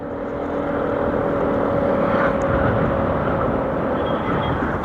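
A Vespa VXL 125 scooter with a 125cc engine being ridden, giving a loud, continuous engine drone mixed with rushing wind noise that holds steady throughout.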